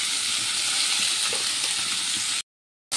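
Onion, garlic and tomato paste sizzles loudly in a hot pan for a Bengali prawn dish, a steady dense frying hiss that cuts off abruptly near the end.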